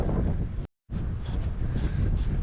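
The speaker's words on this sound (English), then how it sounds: "the wind's proper gusting over here" Strong, rumbling wind buffets a microphone fitted with a windsock at a ruined 1500s Scottish castle, loud and continuous apart from a brief cutout, with gusts rising and falling.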